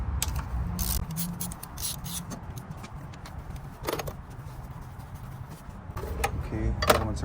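A wrench loosens a 13 mm bolt on the thermostat housing of a 2003 BMW 330i, giving repeated metallic ratcheting clicks and clinks, some scraping, and tool jangling close by in a quiet garage.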